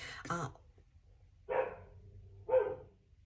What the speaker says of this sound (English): There's dogs in my neighborhood barking.